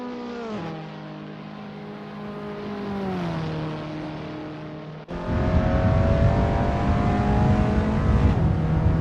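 Abarth 500 race cars in Assetto Corsa at Maccu Grand Prix, engines revving with rising and falling pitch, then a sharp jump to a louder, denser roar as another car closes in.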